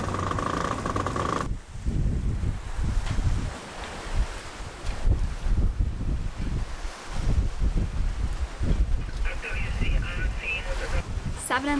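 A sailboat under way at sea on a multi-day passage, making about seven and a half knots in roughly eight knots of wind: steady wind rush and water noise throughout, with people talking over it.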